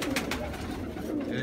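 A pigeon coos close by, a low murmuring call in a short burst, with faint background noise.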